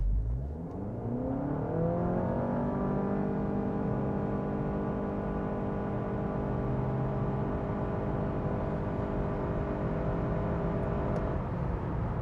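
A 2023 Honda CR-V e:PHEV plug-in hybrid in sport mode launches hard on an empty road, its engine note climbing quickly and then holding a strong, even drone, loud and close with no talking.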